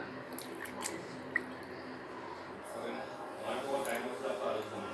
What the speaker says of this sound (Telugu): దీన్ని కడుక్కొని పెట్టుకుందాం. ఈ విధంగా 2-3 సార్లు కడిగేసి పక్కకు పెట్టుకోవాలి.